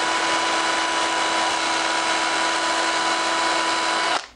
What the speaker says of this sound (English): stick it with the point out in your drill chuck. Then it's just a matter of driving it in.